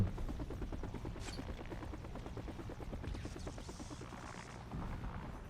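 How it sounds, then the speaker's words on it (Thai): A police helicopter in the video game Batman Vengeance thumps with rapid, even rotor beats that stay steady and moderately near, with a brief higher whine partway through. "เฮลิคอปเตอร์ตำรวจ"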